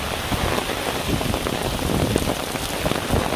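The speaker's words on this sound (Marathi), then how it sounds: "कालपासून हा सुरू असलेला पाऊस खूपच पडतो आहे" Heavy, steady rain pours down after a full day and night of downpour, a dense unbroken hiss of drops on surfaces, loud and close with no voices.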